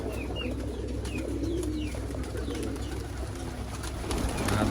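Pigeons cooing close by in a steady chorus, with occasional chirps and wing flutters over a constant low background hum.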